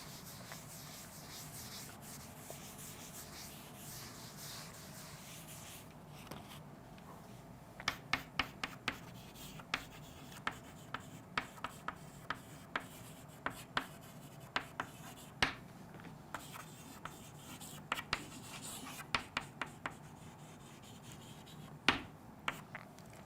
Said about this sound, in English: we'll just write that down, whatever we discussed right now about viruses